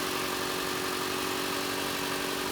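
A 2015 Mitsubishi Outlander Sport's 2.0-liter four-cylinder MIVEC engine idles with a smooth, even hum and a steady tonal drone, constant and close with no revving or voices.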